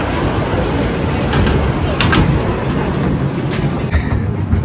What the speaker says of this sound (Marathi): हे बघा आपली ट्रेन आता स्टार्ट झालेली आहे.